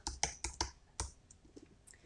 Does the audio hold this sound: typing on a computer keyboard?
yes